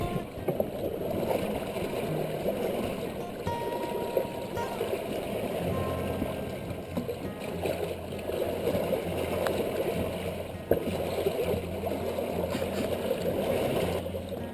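A sailboat under sail alone in 15 to 20 knot winds, doing just over 6 knots, with water rushing and gurgling past the stern in a steady low wash, wind noise faintly present and no engine.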